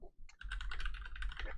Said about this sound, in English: typing is slow on my computer right now